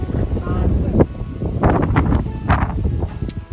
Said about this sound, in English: it's windy today